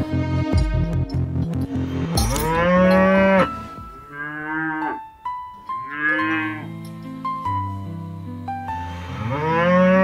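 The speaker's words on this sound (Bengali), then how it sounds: "গোয়ালাপাড়ার সমস্ত ষাঁড় আর বাছুর এসে" Cartoon bulls and calves crowding into a cowshed let out long, loud moos one after another, deep drawn-out lows mixed with higher calf bleats, overlapping with barely a pause between them.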